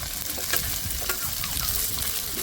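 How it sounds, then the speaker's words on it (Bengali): Chopped onion, tomato and crushed garlic frying together in a pan, a loud steady sizzle broken by scraping stirring strokes, close and continuous with no talk. "এবার সবগুলো একসাথে ভালো করে ভেজে নেব"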